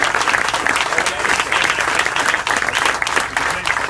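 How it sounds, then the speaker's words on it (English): An indoor audience at a political event in Bloomington claps steadily in warm sustained applause, a dense wash of hand claps with faint crowd murmur. "One more round of applause for Dan and Jason."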